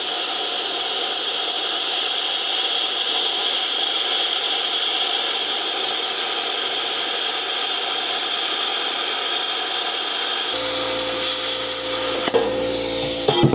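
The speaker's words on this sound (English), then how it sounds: "Is it a professional plasma cutter? Absolutely not. But will it get the job done for the couple cuts a year I need to make?" A hobby plasma cutter cutting metal gives a loud, steady, close hiss and roar that holds evenly for about ten seconds, then shifts into a rougher, crackling tone near the end, with no talk.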